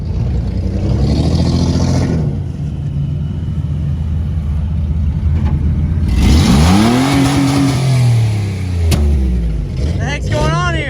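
An all-wheel-drive side-by-side off-road vehicle revs its engine in bursts, rising and falling loudly nearby, while people talk and shout over it.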